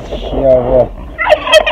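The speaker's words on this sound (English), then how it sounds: "This is the turkeys." Farm turkeys gobble loudly and up close in two rattling bursts, a brief pause between them, with a few spoken words near the start.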